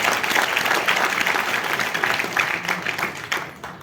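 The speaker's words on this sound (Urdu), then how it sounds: "ان کے لیے بہت بڑی تالیوں کی ضرورت ہے" An audience at an event celebrating 200 years of Urdu journalism breaks into sustained, dense applause that holds steady, then begins to thin toward the end.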